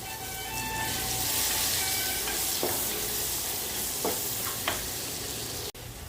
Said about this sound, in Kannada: ಇವಾಗ ಇದೇ ಆಯಿಲ್ಗೆ 2 ದೊಡ್ಡ ಈರುಳ್ಳಿನ ಸಣ್ಣಕ್ಕೆ ಎತ್ತಿಟ್ಕೊಂಡಿದ್ದೀನಿ. ಇದನ್ನು ಸಹ ಇದರಲ್ಲಿ ಹಾಕ್ಕೊಂಡು ಚೆನ್ನಾಗಿ ಡೀಪ್ ಫ್ರೈ ಮಾಡ್ಕೊಳ್ಳೋಣ